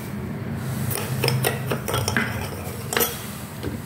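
Tablespoon clinking against a bowl while sugar and water are added for a sweet-and-sour vegan banana blossom salad, a series of close metallic taps and scrapes in an irregular rhythm.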